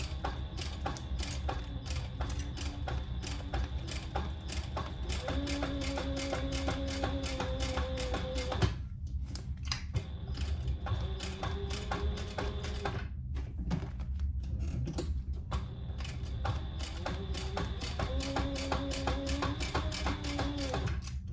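A sewing machine top stitches a travel jewelry case with a 1/8 inch stitch, making rapid, even mechanical ticking in long runs broken by two short pauses, over a low steady hum.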